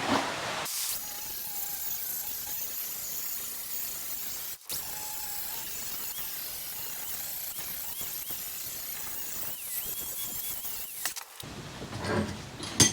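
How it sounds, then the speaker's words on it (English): An angle grinder grinds a metal part clamped in a vise during a Volkswagen barndoor single cab build with flipped spindles. The harsh, hissing whine runs steadily for about eleven seconds, then cuts off. "Get the grinder out and continue."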